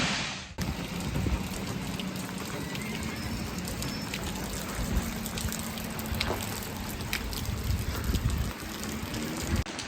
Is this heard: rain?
yes